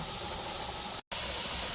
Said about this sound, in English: let it cook for 10 minutes with that steady stream of steam